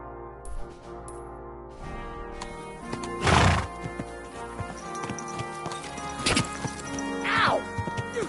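A horse neighs loudly in a medieval open-world video game, with hooves clip-clopping and scattered thuds around it, close and clear, ending in a second, shorter whinny.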